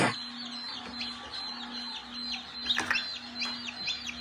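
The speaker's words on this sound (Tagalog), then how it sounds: "So ngayon, ito yung ating mga sisiw." Young chicks peep continuously in a brooder, many high thin calls overlapping close by above a low steady hum.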